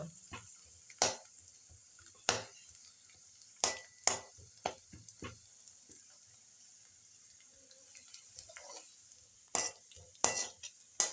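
Spices splutter in hot oil in a pan for a curry, with a soft continuous sizzle punctuated by sharp crackles and scattered stirring clinks throughout.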